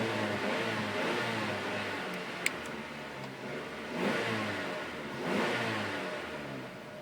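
A 2008 Mazda 3 GT with an electronic exhaust cutout idles, then revs twice in rising and falling swells, the engine note heard close and moderately loud.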